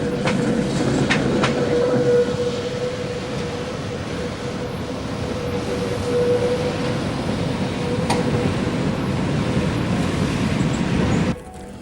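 A tram in Prague rumbles along its rails, steady rolling noise with occasional clicks and a faint squeal, ending abruptly near the close.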